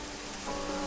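Rain falls in an even, hissing wash across a surface, steady and fairly soft, with no voices over it through the short stretch.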